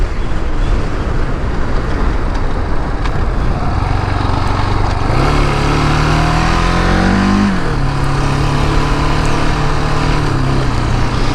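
KTM 701 single-cylinder dual sport motorcycle cruising on a highway, its engine note loud and steady under heavy wind, with a rising then falling rev change midway as the throttle is eased off.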